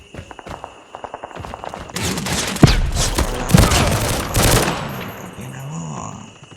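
Loud bursts of automatic rifle fire and heavy shots in a battlefield shooter video game, rising from sparse pops into a dense, sustained fusillade with sharp booming impacts, fading near the end.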